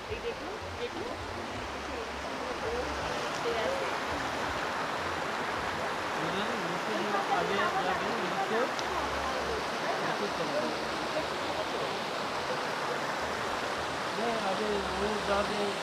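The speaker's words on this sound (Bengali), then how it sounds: "এই জল এখান থেকে গিয়ে দুধসাগর রূপে গিয়ে ঝর্ণাটা করে ঝরে পড়ছে" Steady, dense rush of stream water flowing down toward the Dudhsagar waterfall at Daringbadi, a continuous broadband roar that holds evenly loud throughout.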